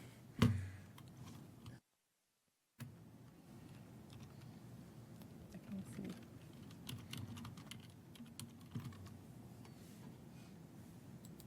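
Fingers tap quietly at a computer keyboard with a tight feel, a sparse run of soft irregular clicks in a hushed room, broken by one louder knock near the start and a second of total silence.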